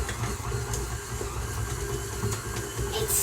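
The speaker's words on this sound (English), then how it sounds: "we try to beat the butter that's cold" Cold butter being beaten with a whisk for a cake gives a steady, close, continuous mechanical whirring and scraping with a low rumble, no voices.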